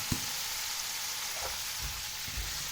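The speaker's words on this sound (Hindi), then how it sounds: "प्याज को फ्राई करेंगे" Onions fry in hot oil in a pan, a continuous hiss of sizzling with a few soft knocks and stirs at the bottom, close by and with no talk.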